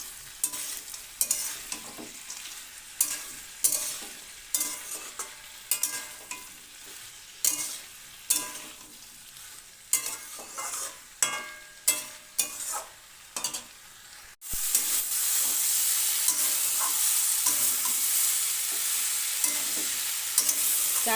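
Mixed vegetables with fried chickpeas and peanuts being stir-fried for a vegetarian chhokka, a spoon scraping and tossing in repeated rhythmic strokes over a steady sizzle that turns into a loud, continuous frying hiss near the end, with no talking.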